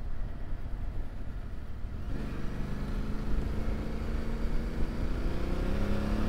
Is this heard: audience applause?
no